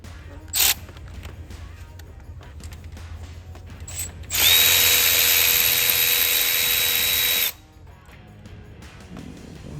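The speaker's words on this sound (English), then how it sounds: "to get to these lower 10mm studs under here, 10mm magnetic socket" A power tool with a 10mm magnetic socket spins out studs on a 2011 Chevrolet Cruze turbocharger: a short burst, then a steady whining run of about three seconds, close and fairly loud.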